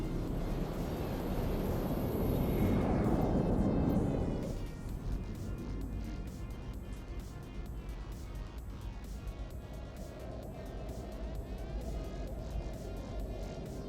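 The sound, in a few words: ship warp drive in EVE Online video game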